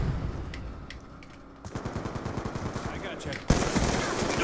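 AN-94 assault rifle fire in the shooter game Call of Duty: Black Ops 2, a steady run of rapid automatic shots that grows louder midway, with dense bursts of gunfire and battle noise continuing to the end.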